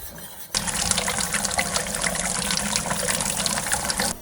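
Milk pours slowly into a pan while being whisked, a sudden steady liquid rush and splash beginning after a quiet moment and continuing evenly, close and loud.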